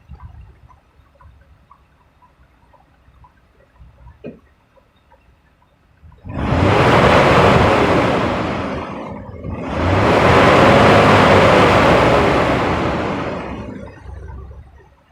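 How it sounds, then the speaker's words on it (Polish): A loud, steady roaring whoosh of a BMW engine cooling fan with a seized viscous clutch spins up after a quiet idle, dips briefly, then roars again and holds. "ten wentylator bardzo słychać, jak jest to wisko zacięte"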